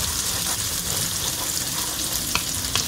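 Garlic and onion frying in a wok-style kawali alongside ginger, a loud, continuous close sizzle with a couple of sharp spatula taps near the end, no voices.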